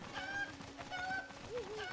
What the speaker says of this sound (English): I got a chicken, I got a chicken